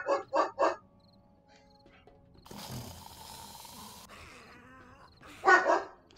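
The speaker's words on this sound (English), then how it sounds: "Stop barking!" A dog barks three times in a quick burst, then pauses, with a louder rush of noise in the middle, and barks again twice near the end, close and clear.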